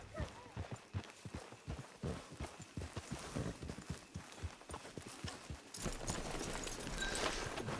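Horse hooves in Red Dead Redemption 2, a rapid, steady clip-clop of a trotting horse over ground, moderately close, with a rushing wind-like noise rising toward the end.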